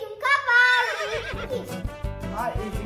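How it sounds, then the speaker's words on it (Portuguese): A horse neighs loudly in Minecraft, a long whinny with a falling pitch over the first second, followed by footsteps or clip-clop thuds and game noises, with no talk over it. "Eu consegui um cavalo."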